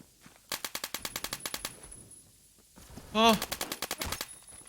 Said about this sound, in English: Where the hell is this shot coming from?